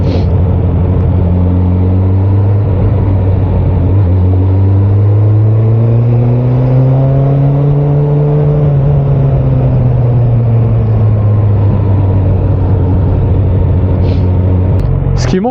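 Motorcycle engine running while riding, a loud close drone whose pitch climbs and then eases back down, sustained throughout.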